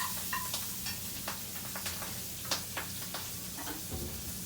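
Shrimp sizzle in melted butter in a pan, a steady crackling hiss close up, broken by scattered clicks and ticks from the pan.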